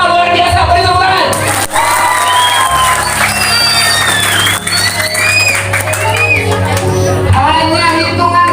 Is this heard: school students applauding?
yes